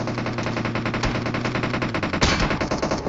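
Rapid automatic gunfire rattles in PUBG Mobile, a dense unbroken burst of shots with a sharper crack near the end, loud and alone without talk.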